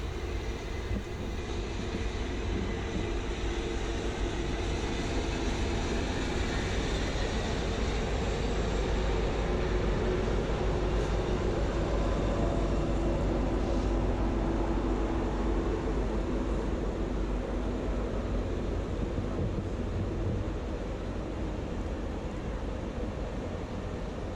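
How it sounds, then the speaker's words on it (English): Union Pacific 4014 steam locomotive rolls along near the Truckee River toward Sparks on Donner Pass, a steady, loud rumble of train and cars that continues unbroken for the whole stretch. "As the train continues to roll along"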